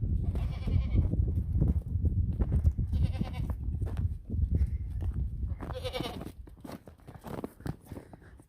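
Savanna goats bleating repeatedly at close range, several loud wavering calls spaced over a few seconds, with shuffling footsteps and crunching around them.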